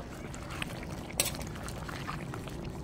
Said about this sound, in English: Wow, it's boiling up nice.